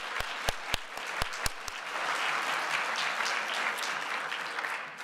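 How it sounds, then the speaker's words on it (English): Audience applause at an annual research luncheon, starting with a few sharp individual claps and then swelling into steady, sustained clapping from a crowd. "Let's give them another round of applause."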